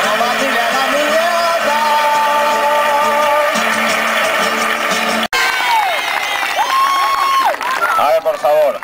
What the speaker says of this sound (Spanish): Larga ovación